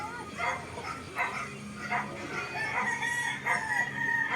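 Rooster, one of several fighting cocks kept for sale, crowing repeatedly amid a noisy yard with overlapping animal calls and background voices.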